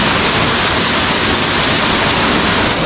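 Close, constant rush of cascading water at Pampanal waterfall in Kottayam, a dense even roar heard alone without speech.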